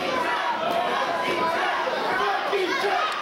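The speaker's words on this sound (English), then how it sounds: "And listen to the fans getting all over the Michigan Invasion." Wrestling fans at a sold-out show in Berwyn, Illinois, shouting at the Michigan Invasion, a dense steady roar of crowd voices and jeers with commentators talking over it.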